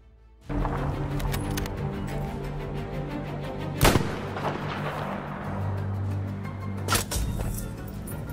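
A sniper rifle fires a long-distance headshot in Battlefield 5 multiplayer: one sharp, loud crack rings out over a busy game soundscape, with a second, fainter report near the end.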